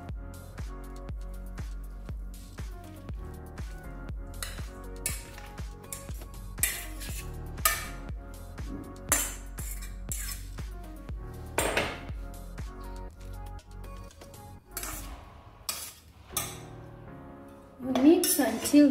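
Cucumber salad tossed in a bowl, with repeated clinks and scrapes of a utensil against the dish in an irregular rhythm, close and moderately loud, with a voice talking over it.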